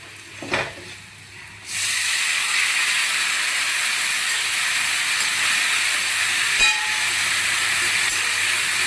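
Water poured into hot spiced oil while cooking a morola fish curry sets off a sudden loud, steady hiss and sizzle that runs on close and strong after a quieter start.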